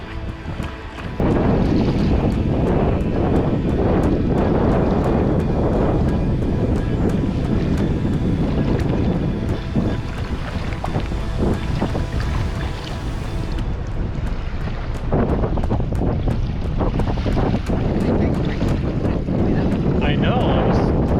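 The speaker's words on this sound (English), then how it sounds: "we have the wind at our back, but the wind is creating these waves" Steady loud wind buffeting the microphone over choppy waves on Lake Laberge during a paddling trip on the Yukon River, with a constant broadband roar that barely lets up.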